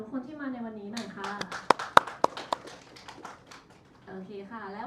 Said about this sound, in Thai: ขอเสียงปรบมือให้กับทุกคนที่มาในวันนี้หน่อยค่ะ